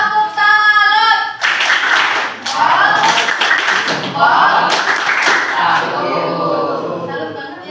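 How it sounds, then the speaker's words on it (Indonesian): A group claps a rhythmic salute in several sharp bursts of patterned clapping, loud and close, with voices chanting and calling over the claps between bursts. "Tepuk salut buat kita, diri kita sendiri yuk."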